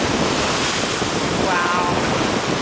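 Large ocean waves break on Playa Las Penas beach in Mexico as a loud, continuous broadband wash of surf with heavy wind buffeting, and a faint voice briefly rises in the middle.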